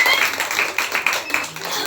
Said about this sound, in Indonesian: Tepuk tangan Tuhan kita ini.